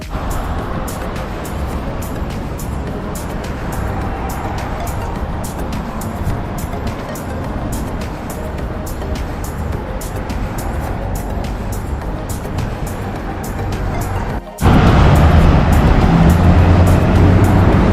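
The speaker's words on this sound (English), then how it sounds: "that's another public transport bus out there" Public transport bus on an Abu Dhabi street, a steady close engine and road rumble with traffic around it, swelling abruptly louder near the end, no voices.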